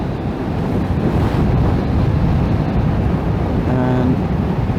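Steady roaring wind rush buffets the rider of a 2020 BMW F900XR motorcycle at cruising speed behind a non-preferred windshield, loud and continuous with a low engine drone underneath and no talking.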